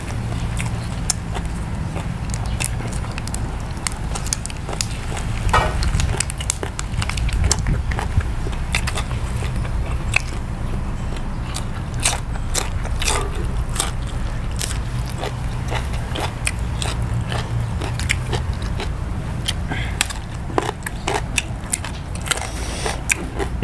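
Crunchy pork ear eaten with Thai papaya salad, close crisp bites and steady chewing with sharp crackles scattered throughout, loud and near against a low background rumble.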